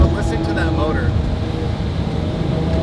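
Lamborghini Murcielago V12 engine cruising at the speed limit, giving a steady, loud drone with road rumble throughout while people talk over it inside the car.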